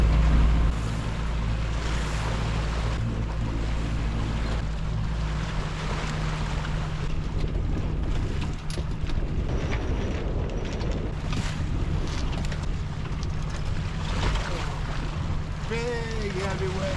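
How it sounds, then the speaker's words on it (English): Big, heavy North Atlantic waves churn and crash around a sailboat under sail, with a constant loud rush of water and wind across the whole stretch. "Big heavy waves."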